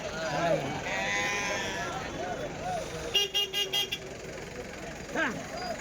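Rams bleat at the Kadiri sheep market in a busy outdoor crowd, with several wavering bleats over steady chatter, plus a burst of short vehicle horn toots in the middle.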